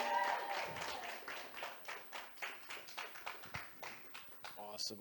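An open mic night crowd claps in a quick, steady patter of fairly faint applause that tapers into scattered claps, with voices audible beneath it.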